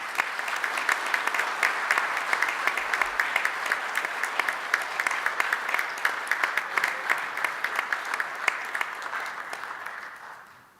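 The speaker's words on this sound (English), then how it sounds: "we want to give them a big round of applause and recognize them" A crowd at a city council meeting applauds steadily and enthusiastically for about ten seconds, the clapping fading out at the end.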